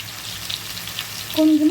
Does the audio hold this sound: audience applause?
no